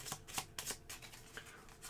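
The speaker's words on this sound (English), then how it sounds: "And then we're going to shuffle our cards." A deck of cards for a deckbuilding board game is shuffled in a few quick, soft riffling bursts, close and quiet with no talk.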